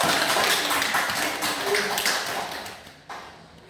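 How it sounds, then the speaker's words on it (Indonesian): Applause in a madrasah classroom during an Islamic history teaching practice session, a steady wash of many hands clapping that fades out over a few seconds. "beri aplaus dulu"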